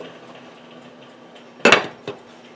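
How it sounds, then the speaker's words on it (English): A lid set onto a cooking pot of steaming vegan aloo gobi gives one sharp metallic clank, then a smaller rattle a moment later, against a quiet kitchen background. "we're just going to put the lid on this and let it steam for about 15 minutes"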